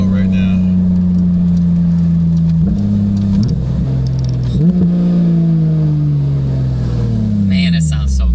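A 2022 Porsche 911 GT3 in track mode drones loudly from inside the cabin on a test drive, holding a steady tone, then shifting up twice before the note winds down.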